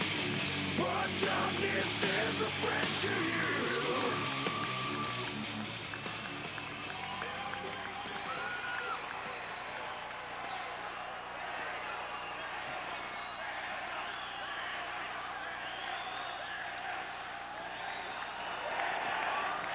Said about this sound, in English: What enthusiastic crowd will let them do the screaming and hollering